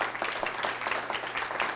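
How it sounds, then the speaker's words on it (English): Audience applause at a live motivational TV show taping, a dense steady wash of many hands clapping at close range, continuous and fairly loud throughout with no voices standing out. "Give yourselves another round of applause for being here tonight."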